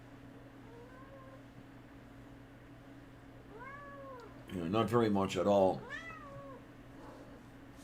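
A pet cat meows a few times, drawn-out rising-falling calls close by, while a person talks briefly over a faint hum in a home.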